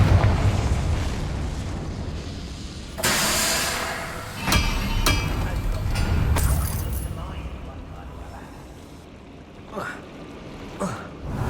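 Confringo fire spell from Hogwarts Legacy bursting in fiery blasts, several loud booming explosions with rumbling decay over an ongoing game soundscape.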